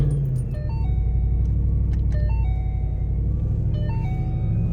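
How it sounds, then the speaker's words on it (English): A 2014 Ford Mustang GT V8 idles with a steady, loud low rumble, with a few faint higher tonal chirps layered over the engine throughout. "let's start up and see if it makes any weird noises"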